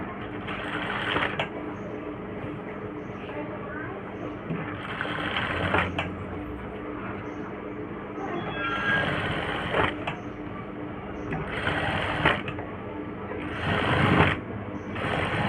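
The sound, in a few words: sewing machine stitching a blouse neck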